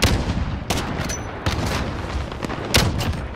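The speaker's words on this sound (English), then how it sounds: "Every time I pull the trigger, I kill someone." Rapid gunfire in Call of Duty: Modern Warfare, sharp close shots in irregular bursts cracking over a noisy battlefield rumble, loud and punchy throughout.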